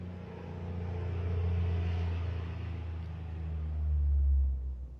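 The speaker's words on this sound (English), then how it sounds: "There goes one of the big trucks by my house." A big truck passes close by a house, its deep engine rumble swelling steadily and peaking near the end before easing off, with no other sounds over it.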